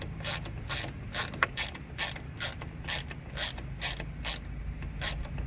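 Ratchet tightening bolts on a Jeep Gladiator hardtop, a steady rhythmic series of clicking strokes, about a dozen in quick succession, close and clear with no talking.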